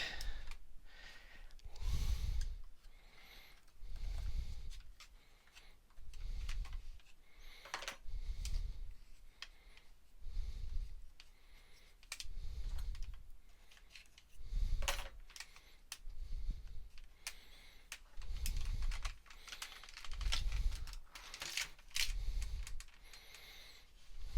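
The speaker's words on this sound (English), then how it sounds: "I'm just going to keep wrapping this around until I think that it's going to work" Tape being wrapped around an Inhumanoids Metlar action figure during a head and leg joint repair, giving a steady series of soft rhythmic pulls and crinkles, about one every two seconds, close and fairly quiet with no talking.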